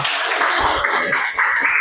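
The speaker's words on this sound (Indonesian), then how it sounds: "tepuk tangan untuk kelompok visual" Sustained applause from a group in a classroom, a dense wash of many hands clapping together, fairly loud and steady throughout with no talking.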